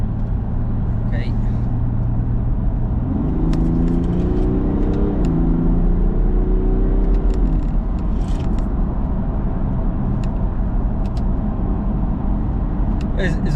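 A BMW 435d diesel engine drones loudly from inside the car while driving in traffic, a steady low rumble rising and falling through gear changes, with someone talking over it.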